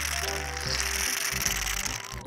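A crank turns on a toy play-dough ice cream machine, giving a run of close, rapid ratcheting clicks and plastic gear rattles that shift pace partway through.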